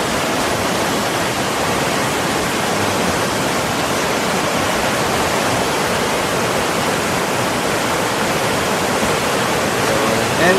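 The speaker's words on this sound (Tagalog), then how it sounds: "So, ito na ngayon yung itsura ng ilog. Nagkulay brown na siya." A brown, flooded river rushes after heavy overnight rain at a campsite, a loud, unbroken wash of churning water that holds steady throughout.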